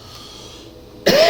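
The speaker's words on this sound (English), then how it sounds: "Excuse my cough." A single sharp cough from a man recovering from bronchitis bursts out close to the microphone near the end, after a quiet stretch of low background hum.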